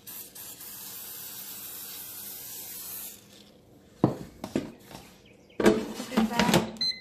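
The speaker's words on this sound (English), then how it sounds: "spray some oil on the top" A long steady hiss of cooking oil spray over chicken nuggets in an air fryer tray, then two shorter bursts of spraying after a pause, close by and fairly quiet.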